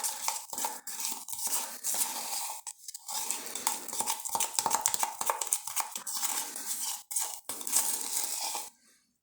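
Mosaic grout being mixed with water, giving a gritty, wet scraping and stirring with irregular strokes and short pauses, close and fairly steady, ending abruptly.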